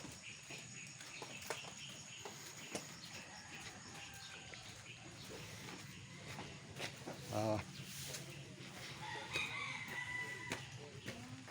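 Chickens cluck and a rooster crows at a distance amid outdoor background noise, with people talking intermittently.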